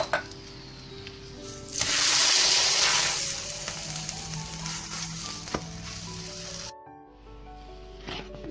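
Oil sizzling under a methi paratha on a hot griddle, a loud crackling burst that settles into steady frying hiss, with brief clinks and a sudden drop near the end.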